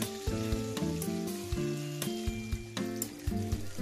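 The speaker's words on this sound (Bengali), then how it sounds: "ধোকাগুলি এইভাবে ভেজে তুলে নিয়েছি, বাকিগুলিও ভেজে নেব।" Dhoka lentil cakes fry in hot oil with a continuous crackling sizzle under light melodic background music, marked by occasional sharp pops and stirring clinks.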